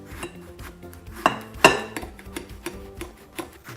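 A knife cuts a watermelon into 1-inch slices, probably in a bowl, giving a run of faint, close scraping and tapping sounds. Two sharper knocks stand out partway through, one of them louder.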